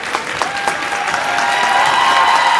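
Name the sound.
fans clapping for Laconia Spartans at end of half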